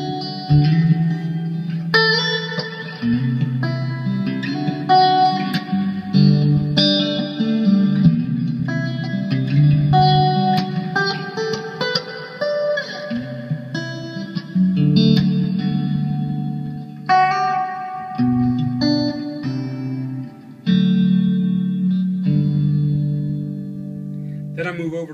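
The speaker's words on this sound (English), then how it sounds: "adding the wet reverb." Clean electric guitar plays chords and single notes, its tone washed in lush reverb that lets each note ring and trail off.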